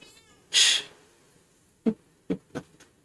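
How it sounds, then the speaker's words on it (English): A cat gives one clear, fairly loud meow, followed by several shorter, softer chirps and mews in quick succession, with no talk over it. "What are you meowing for?"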